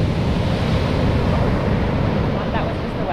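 Ocean waves wash in at a rocky Australian shore, a steady broadband rush with wind buffeting the microphone throughout, loud and close with no break.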